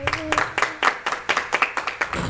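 A church congregation applauding during Pastor Fernando's sermon, many hands clapping in a quick, fairly steady rhythm that sounds close and lively, with a faint voice underneath.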